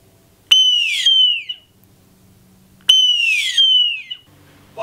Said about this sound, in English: It is a hawk.